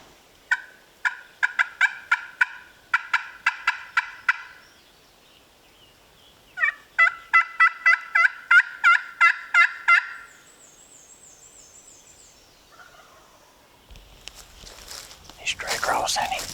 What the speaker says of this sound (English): that bird sounds like he's probably over there where you struck this bird